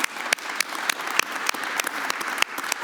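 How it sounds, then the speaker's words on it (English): Modest, fairly faint round of applause from a small seated audience welcoming award nominees, scattered distinct claps over a soft steady clapping wash. "Welcome, and give them an applause."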